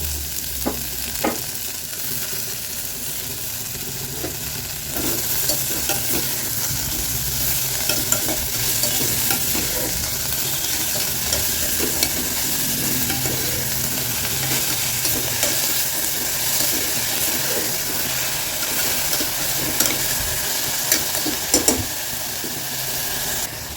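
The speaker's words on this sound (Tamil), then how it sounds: "நம்மளோட கீரையை எடுத்து அதை போட்டு நல்லா வதக்கிடலாம்." Leafy keerai greens sizzle steadily in a hot pan, stirred with repeated scraping and clinking of a spoon against the metal, loud and close with no voices over roughly twenty-four seconds.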